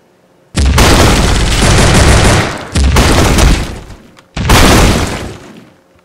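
Uzi gunfire in the indie video game Wake The Dragon, heard as three long, loud, close bursts of rapid automatic fire separated by brief pauses.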